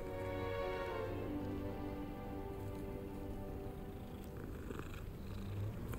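A cat purrs steadily in the game Hogwarts Legacy, a continuous low rumble heard up close, with game ambience like light rain in the background and no talking.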